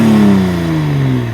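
Toyota A90 Supra engine revving on its stock exhaust, a loud, close, steady drone that sags gradually in pitch across a single rev, with no talking over it.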